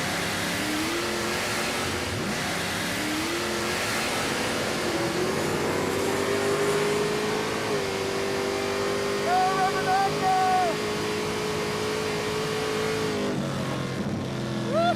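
A 440ci V-8 in a 1968 Dodge Charger, running rich with a badly off tune, makes a drag pass, a loud sustained engine roar with rising revs through the gears, heard close over crowd noise and voices.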